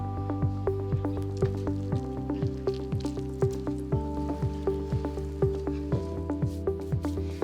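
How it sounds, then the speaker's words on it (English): Wet seed-starting soil being squished and worked after water is added, a steady series of soft, regular squelching pulses close to the mic, repeating roughly every half second without talk. "So add water until your soil feels almost like silly putty."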